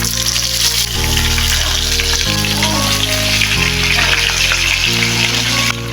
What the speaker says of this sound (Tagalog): Iprito muna natin itong tilapia.